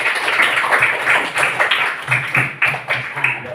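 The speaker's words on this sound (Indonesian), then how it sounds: "tepuk tangan dulu untuk Askia" Students in a classroom clap for a classmate, a short uneven burst of hand claps with light chatter around it.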